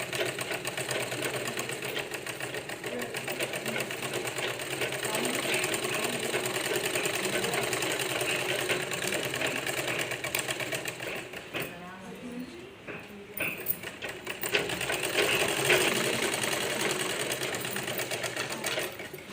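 Sewing machine stitching the back panel of a blouse, folding the lower edge where there is no lining; a steady continuous whir runs throughout, briefly pausing near the middle, with a person talking over it.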